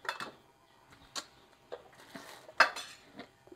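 A metal spoon clinks against a coffee cup while stirring sugar, giving a few sharp, close ticks and taps spaced irregularly, with one louder clink near the end and no talking.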